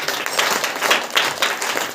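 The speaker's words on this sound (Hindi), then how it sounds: "एक बार जोर से ताली बजाकर" Church congregation at a Saturday worship meeting clapping loudly together, a dense, even burst of many hands heard close and full for about two seconds.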